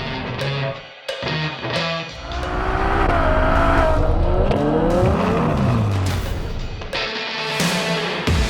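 A Ferrari 812 GTS convertible drives along, its engine droning steadily and loudly, swelling into a rising, higher-pitched rev midway before easing back to a smooth cruise, with tyre and road noise underneath.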